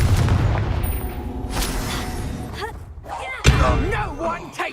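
A Confringo spell blast in a Harry Potter video game, a sudden heavy boom about three and a half seconds in, set within a dense, rumbling battle mix of thuds and impacts while a voice shouts over it.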